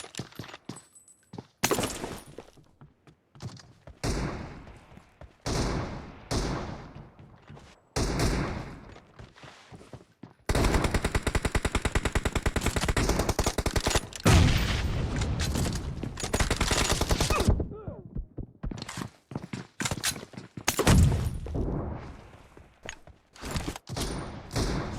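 Sniper rifle fire in a team deathmatch video game: repeated sharp shots and thuds spread across the stretch, with dense sustained bursts of gunfire in the middle and quieter gaps between.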